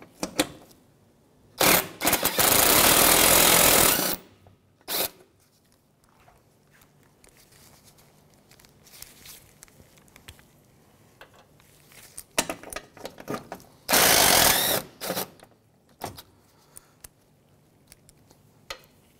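A power tool removes 10 mm bumper bolts on a 2007–2013 Mitsubishi Outlander in two loud, buzzing runs of about two seconds each. Short clicks and handling noises fall between them.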